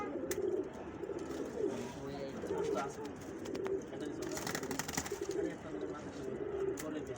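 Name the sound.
pigeon cooing, red Patti female pigeon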